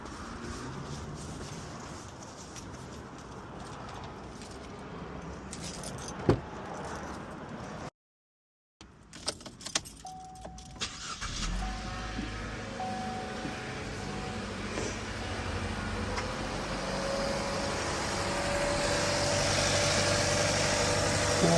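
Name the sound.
2020 Chevy Trax started with keys, engine idling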